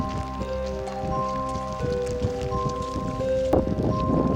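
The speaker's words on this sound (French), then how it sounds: "L'orage se fait sentir et rapidement une pluie forte s'abat." Heavy rain pours down during a mountain thunderstorm in the Alps, a steady dense patter with scattered clatters and a louder burst near the end, heard outdoors with no talking.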